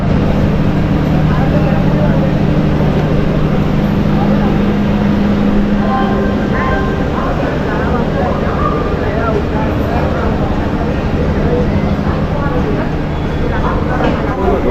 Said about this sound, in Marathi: चला आता आपली ट्रेन सुटली